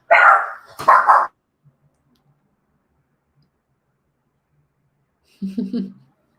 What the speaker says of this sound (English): Like a nice, like an excited bark